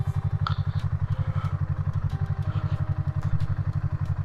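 A motorcycle engine idles nearby as the bike is parked on a mountain road trip. The low, fast, throbbing putter stays steady, with a few light knocks and clatters over it.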